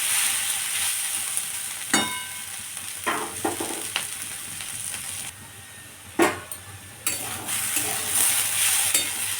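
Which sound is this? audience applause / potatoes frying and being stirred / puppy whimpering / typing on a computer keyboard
potatoes frying and being stirred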